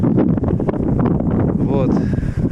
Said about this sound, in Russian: ветер и будет задувать горелку, нужно ее постоянно защищать от ветра